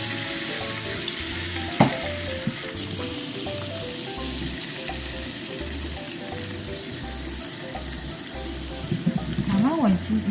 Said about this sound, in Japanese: その間に卵焼きをしとこうかと思います。